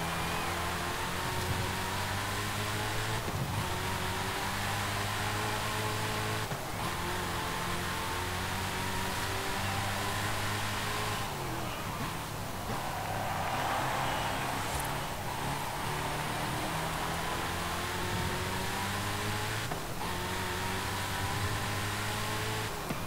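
A 2017 Saleen S7 LM with a twin-turbo 7-litre V8, driven in Forza Horizon 5, drones loud and steady throughout, its pitch repeatedly rising and dropping through gear changes, with turbo whine layered over the engine. No one speaks.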